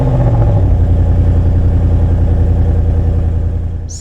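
A 2026 Ford Mustang GT fires up and settles into a loud, deep, rumbling idle right up close, steady and throbbing, then easing off slightly at the end.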